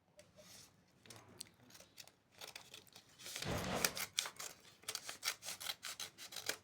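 Scissors snip through fabric cut for a gathered skirt, a run of quiet close-up cuts and rustling that quickens into a rapid series of short crisp strokes.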